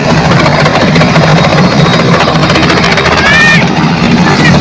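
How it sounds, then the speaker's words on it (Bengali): A helicopter comes in to land beside a floating hospital ship, a loud continuous rotor and engine drone with voices talking over it. "হেলিকপ্টার নামছে ডাক্তার এসে গেছে বিদেশ থেকে ডাক্তার এসে গেছে হেলিকপ্টার নেমেছে"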